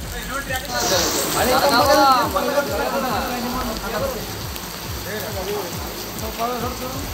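Heavy rain pours steadily in Kalaburagi during flooding, a dense continuous hiss with a rhythmic splashing or dripping pattern underneath and faint voices mixed in.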